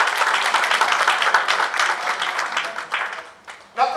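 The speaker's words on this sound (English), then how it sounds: "I think it is worthy for another round of applause." An audience claps loudly and continuously at a retirement function for a hospital doctor, a dense, sustained round of applause that tapers near the end as a voice begins.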